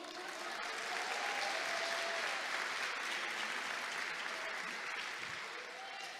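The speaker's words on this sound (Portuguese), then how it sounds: "Você pode aplaudir o Senhor?" Church congregation at an assembly applauds the Lord in a continuous, fairly soft and distant wash of clapping, with faint voices underneath.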